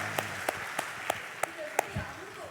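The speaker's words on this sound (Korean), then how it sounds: "차렷 박수 한번 뜨겁게 하도록" Church congregation gives a rhythmic ovation during a Sunday service: six sharp, evenly spaced claps ring out in unison, with a voice murmuring low underneath.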